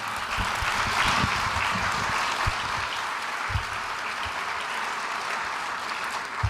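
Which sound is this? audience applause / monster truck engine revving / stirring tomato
audience applause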